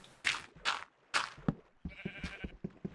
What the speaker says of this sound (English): I must be close to the surface, because I hear sheep.